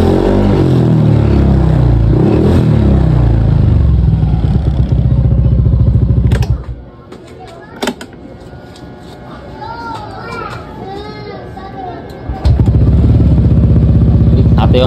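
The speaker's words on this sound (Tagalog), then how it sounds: "Pakita ko din sa inyo mga boss na gumagana yung VVA nito pag pumalo na ng 6K RPM." A Yamaha NMAX V2 scooter, losing oil and coolant, revs toward 6000 RPM with its VVA engaging: a loud sustained engine drone that drops away midway under talk, then surges back hard near the end.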